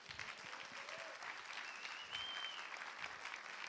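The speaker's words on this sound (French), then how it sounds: "je vous demande de les applaudir" A crowd claps steadily, a soft, even patter of applause with faint background murmuring.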